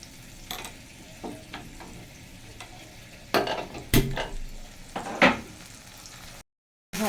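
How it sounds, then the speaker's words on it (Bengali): Spices with black cumin seeds fry in oil in a pan under a low sizzle, broken by several sharp scraping strokes of a spoon before the sound cuts out briefly. "ভাজা হচ্ছে।"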